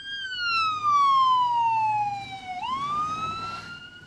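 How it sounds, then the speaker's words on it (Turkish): A wailing ambulance siren near a Peshmerga front line at Bashiqa sweeps slowly downward, then jumps and climbs again, loud and close over a steady low vehicle rumble. "ambulanslar çok sayıda cepheden ambulans geliyor bulunduğumuz noktaya"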